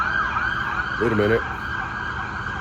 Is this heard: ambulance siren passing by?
yes